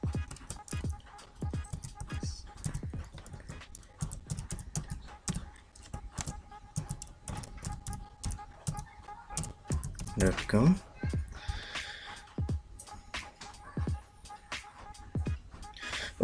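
Typing on a laptop keyboard while entering an email ID into a login screen: a steady run of light, rapid key clicks under a talking voice throughout.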